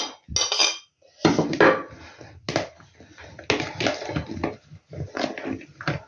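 Salad of tomatoes and onion being tossed in a bowl, with bursts of clinking and scraping from a utensil against the dish, irregular and close, separated by short pauses.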